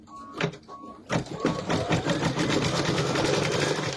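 A Brother V5 or Luminaire embroidery machine starts a first stitch out with a few separate clicks and beeps, then settles into fast, even, rhythmic stitching that builds to a steady, moderately loud chatter.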